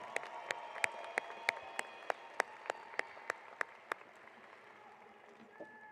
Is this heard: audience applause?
yes